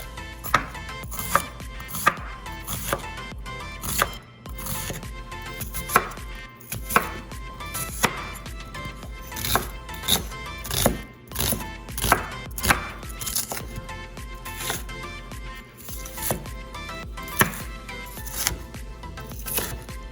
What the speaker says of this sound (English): our next step is to chop up some onions